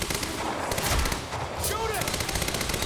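Gunfire in the video game Quantum Break: rapid shots crackle in quick bursts, close and loud, with a dense rattling rhythm through the whole stretch.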